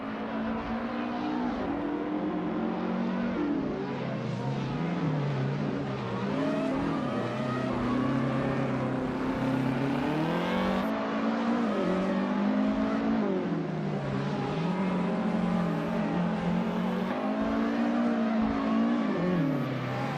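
A 1995 McLaren MP4/10 race car with a V10 engine howls steadily at high revs in a video game, its pitch rising and falling through gear changes over a continuous, loud drone with no pauses.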